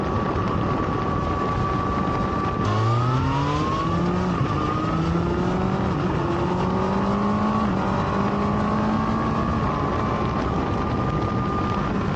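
A 2024 Kawasaki ZX-6R 40th Anniversary Edition sport motorcycle engine revs up through rising tones at high RPM, dropping briefly at each gear change, then climbs again; steady, loud, continuous, with wind noise throughout.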